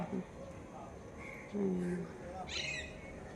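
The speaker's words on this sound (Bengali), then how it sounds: "টিয়া পাখিগুলো সমানে কাউ কাউ করেই যাচ্ছে" Parrots squawk outdoors under a cloudy sky, their harsh calls breaking in at a moderate distance over low background rumble and a nearby talking voice.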